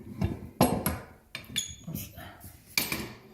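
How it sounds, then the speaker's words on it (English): Loose screws drop and clatter onto a hard surface during cabinet building in a woodshop, several sharp metallic ticks and rattles scattered over a few seconds, close by. "All the screws fell down."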